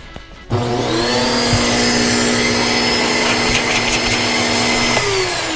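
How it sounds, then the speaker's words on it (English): A wet/dry shop vacuum starts up after a brief quiet moment and runs with a loud, steady motor whine and rushing air, used during a home air conditioner leak repair. "Get my other wet dry vac, bring it over here."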